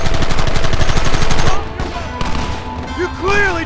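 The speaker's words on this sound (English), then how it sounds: "Fire at will!" In Red Dead Redemption, a fast volley of gunshots rings out loud and close for about a second and a half, then stops, and shouted voices follow.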